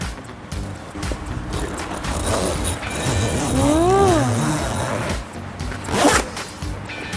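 The zipper on a Camp Design canvas tent gets pulled along its track in one close, raspy sweep lasting a few seconds, followed by a brief rustle of fabric.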